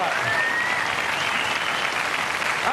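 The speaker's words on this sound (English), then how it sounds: "Let's give them a nice round of applause" Studio audience of a British game show clapping for contestants, a dense steady wash of applause at even loudness throughout, with no talk over it.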